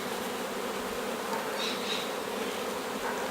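Honey bees buzzing at an opened hive, a steady dense hum of many insects close by, continuous and even with no voices.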